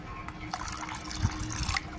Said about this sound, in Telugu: దీనికి మన అవసరాన్ని బట్టి వాటర్ పోసుకోవాలి